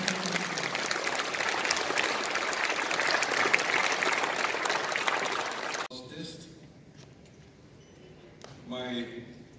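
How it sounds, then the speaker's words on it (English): A big round of applause greets the Chief Minister of Nagaland at the Brillante Piano Festival, a dense hall-filling clapping for about six seconds that cuts off abruptly, followed by quieter room sound and a brief voice. "Let's give him a big round of applause."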